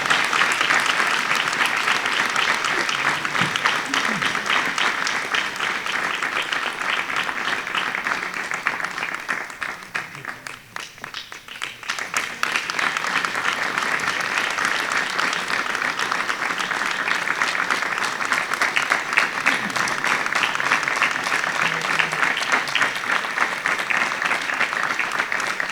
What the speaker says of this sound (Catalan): Un fort aplaudiment, per favor.